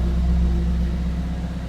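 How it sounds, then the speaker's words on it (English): A 2026 BMW X3 30 xDrive M Sport Edition idles after a cold remote start, giving a steady low hum, close and even with no talk. "So that is the remote engine start, cold start sound."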